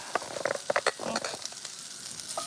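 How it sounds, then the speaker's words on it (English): Asparagus sizzles loudly in a hot pan while being stirred, a close, crackling hiss broken by quick scraping strokes and clicks of the utensil against the pan. "Stir the asparagus."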